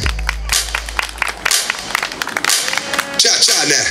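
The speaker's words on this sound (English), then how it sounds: "Let me hear you clap your hands." A crowd at a live dance show claps along with a band in Iva, South Carolina. Loud, uneven handclaps mix with music and cheering and run through the whole stretch.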